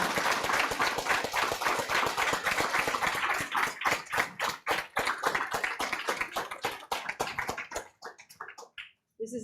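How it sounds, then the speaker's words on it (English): An audience at a county school board meeting applauding honorees; a modest group of individual hand claps, fairly close, thinning out into scattered final claps near the end. "Let's give them all a much-deserved round of applause."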